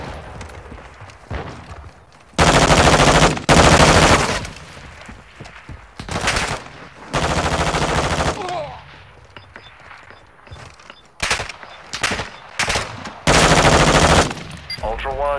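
Call of Duty battle royale firefight with loud, close bursts of machine gun fire in several long volleys, broken by quieter gaps of scattered shots and movement, with a voice briefly speaking.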